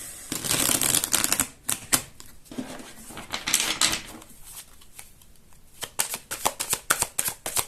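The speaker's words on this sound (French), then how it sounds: "Allez, je vais prendre d'autres cartes et on va voir." Tarot cards are shuffled and drawn by hand, a fluttery riffling of card stock in quick bursts followed by sharper snapping flicks, close and crisp.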